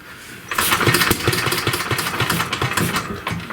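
A 1937 Briggs and Stratton Model A small engine sputters to life after a quieter start, then runs loud and close with a rough, uneven popping rhythm for a few seconds, with no talking.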